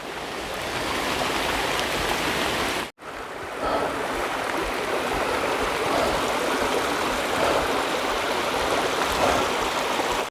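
A small stream runs beside a hiking trail on the Appalachian Trail, a steady close rushing babble that continues without a break.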